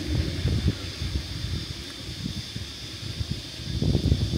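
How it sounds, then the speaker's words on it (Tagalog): Outdoor wind at Nurragingy Reserve park in Doonside, heard as a low, uneven rumbling gust that buffets the microphone continuously, with no one speaking. "Hangin."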